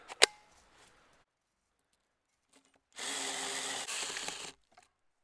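A battery power drill drives a screw tight at a canoe campsite, one close whirring burst of about one and a half seconds after a sharp click and some quiet handling. No one speaks.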